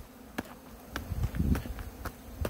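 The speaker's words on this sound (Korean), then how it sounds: "얘는 장수 말벌이 왜 이렇게 커?" A large Asian giant hornet hovers and buzzes close by for a couple of seconds, a fairly faint droning hum with short sharp bursts around a hive where hornets are being caught.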